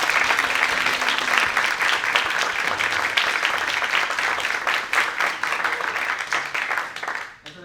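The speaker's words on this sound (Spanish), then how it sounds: "unas palmas para el panel que tenemos el día de hoy" Loud, sustained applause from an audience at a ballroom event panel, a dense wash of clapping that fades out at the end.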